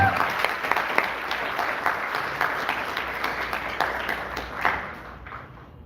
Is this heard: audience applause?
yes